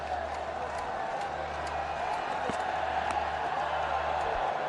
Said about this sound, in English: this crowd is celebrating